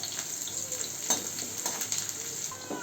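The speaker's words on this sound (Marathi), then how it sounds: "तेल तापले, तेलामध्ये मी ठेचून घेतलेला लसूण टाकते." Crushed garlic sizzling in hot oil on a high flame, a steady close crackle with occasional stirring scrapes and small spits throughout.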